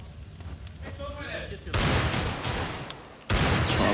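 Burst after burst of rapid gunfire from a Counter-Strike match on de_dust2, with a Molotov burning somewhere in the mix, loud and dense, broken by a brief lull before firing resumes.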